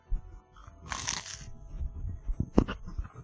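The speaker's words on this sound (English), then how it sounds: "I have no idea if you could hear that crunch" Crunchy food bitten and chewed close to a microphone: a sharp crackling crunch around one second, followed by softer chewing and a couple of brief cracks, with no talking.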